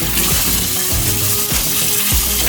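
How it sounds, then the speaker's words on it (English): Rice is washed in warm water for plov, a steady splashing and sloshing with repeated dull knocks as the grains are swirled by hand, close and fairly loud with no talking. "So we wash the rice with warm water."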